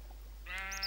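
A single short sheep bleat from Minecraft, close and clear, with a faint low hum underneath.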